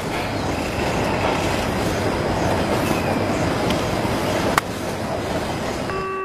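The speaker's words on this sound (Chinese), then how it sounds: "怎么有火车声啊？" A passing train rolls steadily at close range, with continuous rumbling wheels, faint clickety-clack and a brief metallic squeal near the end.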